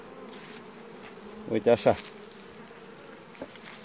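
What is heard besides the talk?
honey bees buzzing around a hive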